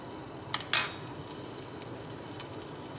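Four cloves of chopped garlic frying in foaming butter, a soft continuous sizzle with a couple of brief clinks of a utensil near the start.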